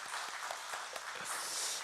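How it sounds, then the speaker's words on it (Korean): A church congregation applauds during Sunday worship to welcome a new family: a faint, distant, steady patter of many hands clapping, with no talk over it. "우리 박수로 환영하겠습니다."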